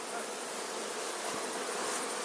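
Honeybees swarm at the entrance of a hive in an apiary on heather at Vrijesak, Glamoč field, a dense continuous buzzing drone close up with no voices.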